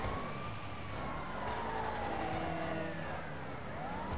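Ambulance siren from GTA 5 Online wailing steadily with rising and falling sweeps, loud and continuous over a dense bed of traffic and engine noise.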